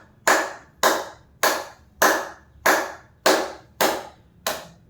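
Eight sharp, evenly spaced hand claps from a person seated in vajrasana, each a crisp close slap with a short decay, in a steady rhythm about every half second, with no voice over them.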